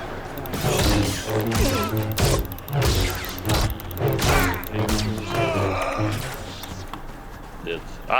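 Gunfire in Star Wars Battlefront 2 during a match, bursts of blaster shots and impacts running steadily under loud, excited talking throughout.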